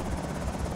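Helicopter in the Project Zomboid video game: a continuous loud rotor thrum with rapid regular blade chop, heard alone and steady throughout.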